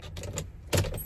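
Keys jangle near a parked car in two short, close bursts, the second one louder, with no talking over them.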